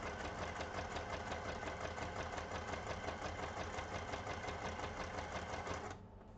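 A sewing machine runs continuously while stitching a junk journal, a dense, even mechanical chatter heard up close that cuts off at the end.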